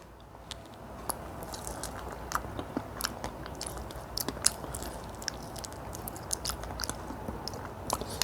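A ripe, egg-sized purple fig with thin skin is bitten and chewed up close, giving soft, wet squishing mastication with small crackles and repeated bite clicks throughout, no talking.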